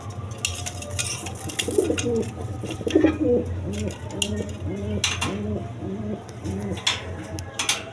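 Pigeons on a pigeon farm coo in a steady rhythmic series of soft throaty calls, close by, over a low hum with scattered clatter and faint voices in the background.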